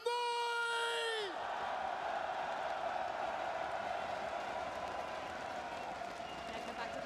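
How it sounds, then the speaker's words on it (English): A live esports crowd at an arena in Antwerp roars loudly and continuously with whoops and cheers, following the last fading notes of a musical sting, a dense distant wash of voices that lasts throughout. "everyone, as loud as you can, Antwerp, make some noise!"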